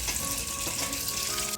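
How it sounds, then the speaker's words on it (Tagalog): A kitchen tap runs steadily as boiled bananas are rinsed under it, a close, constant hissing splash of water that continues without a break and with no voices. "Hagasin natin ng tubig."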